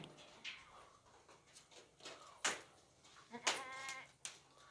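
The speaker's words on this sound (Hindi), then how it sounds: "30 किलो का एक बकरा है, माशाल्लाह बहुत ही ज़बरदस्त है।" A stout male goat weighing about 30 kilograms bleats several times up close, with a few short calls and a longer wavering bleat, over a quiet indoor background.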